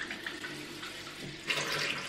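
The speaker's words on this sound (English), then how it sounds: "I don't even know if you can hear me with the tap going" Bathroom tap running steadily into a sink, a continuous close hiss and splash that grows fuller near the end as the flow strengthens.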